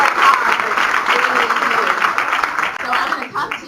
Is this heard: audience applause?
yes